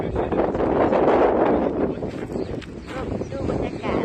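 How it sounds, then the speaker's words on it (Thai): Strong wind on Woolacombe beach in the UK on a rainy morning roars and buffets the microphone in a loud, continuous rumble, with a voice faintly beneath it. "ตอนนี้เช้านี้ลมแรงมากเลย"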